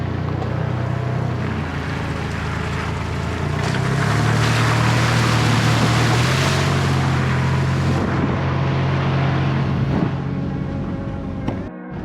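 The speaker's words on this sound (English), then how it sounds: "Oh joy, another creek crossing." A four-wheel-drive vehicle pushes through a creek crossing on an outback road near Archer Point before Cooktown, Far North Queensland, making a loud, steady rush of engine and churning water with a deep rumble that fades out at the end.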